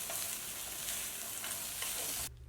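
Sweet potato sheets sizzle and crackle as they are stir-fried in sauce in a hot pan, with a steady bright frying hiss and a few soft scraping stirs, cutting off abruptly near the end.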